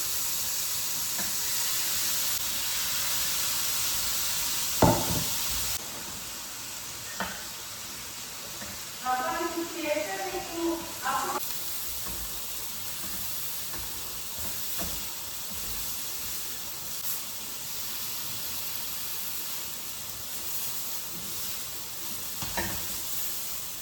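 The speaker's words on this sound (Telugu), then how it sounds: "బటర్, చికెన్ పీసెస్ని ఫ్రై చేయాలన్నమాట బటర్లో" Chicken pieces fry in butter with a steady, close sizzling hiss throughout. A few knocks and scraping stirs sound against the pan, and a brief voice murmurs in the middle.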